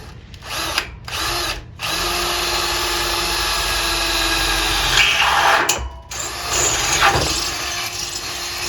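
A loud power drill whirs in sustained bursts, briefly stopping and restarting as it bores holes for a Jeep tool mount, close by.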